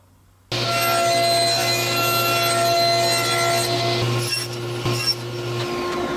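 A power saw cuts wood side pieces for a castle-style dice tower, a steady loud whine starting abruptly and running continuously for about five seconds before winding down.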